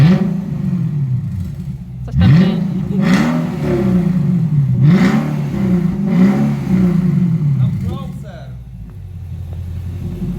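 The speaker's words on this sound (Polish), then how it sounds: "A co, odpalamy brzmienie kupciowej V8?" Infiniti M56x V8 engine revving up in several loud surges over a steady idle rumble, close by, with people talking over it.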